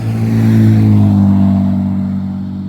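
A loud car with no muffler revs as it passes nearby on a country road, a deep, harsh engine roar rising to a peak and then fading away.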